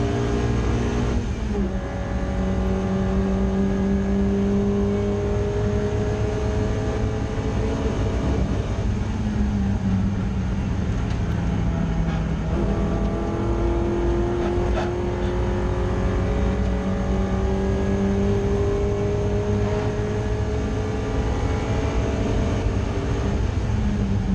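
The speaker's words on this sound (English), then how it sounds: "the purple Puma has just overtaken the orange Puma behind, as you can see, but I think he immediately comes back past." Ford Puma race cars in a BRSCC Clubsport Trophy race at Oulton Park: a loud, close, continuous engine drone with rising and falling pitch as the cars accelerate and shift gears, with no talk over it.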